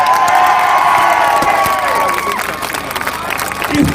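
Outdoor crowd cheering and whooping at a Tommy Robinson rally in Salford, loud and sustained with shouts and some clapping, swelling again at the end.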